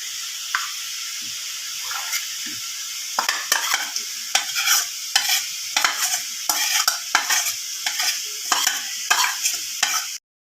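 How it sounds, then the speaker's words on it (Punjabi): Khoya being stirred into hot ghee in a pan, continuous sizzling hiss with a quickening series of spoon scrapes and taps against the pan, ending abruptly. "ਜੀ ਮਾਸ਼ਾਅੱਲਾ ਖੋਇਆ ਮਿਕਸ ਕਰ ਦਿੱਤਾ ਹੈਗਾ"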